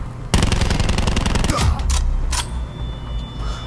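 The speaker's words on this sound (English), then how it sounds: "this is obviously an SMG" A submachine gun fires in Call of Duty: Black Ops 4 in a dense rapid burst lasting over a second, loud and close, followed by a few shorter bursts and a mechanical clack.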